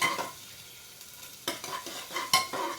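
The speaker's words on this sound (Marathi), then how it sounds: "परत हलवून घ्यायचं अशा रीतीने सोनेरी कलरवर आपण कांदा भाजून घेतलेला आहे" Onion and tomato frying in a pan for pav bhaji while being stirred: a steady sizzle, then a run of scraping stir strokes that grows louder in the second half, with no talking.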